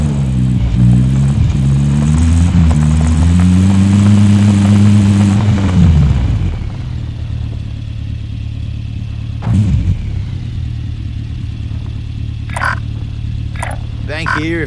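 A car in Call of Duty: Modern Warfare, its engine revving and rising in pitch for several seconds before dropping to a steady low rumble, with a few sharp knocks near the end.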